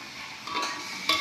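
Grated coconut being dry-roasted in a pan with lemongrass, lime leaves, tamarind and coriander, heard as close, scraping stirring with a faint sizzle over a short span.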